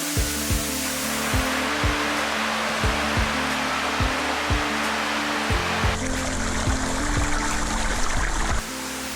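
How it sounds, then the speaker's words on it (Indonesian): Steady broadband rush of flowing water from a gently babbling waterfall in Biak, Indonesia, continuous and fairly close, with faint low rumbles throughout. "Saya disambut lembutnya suara gemericik air"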